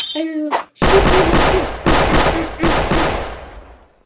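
A Roblox video game fires off rapid, loud bursts of gunshots, four heavy repeating volleys in quick succession after a short electronic tone at the start.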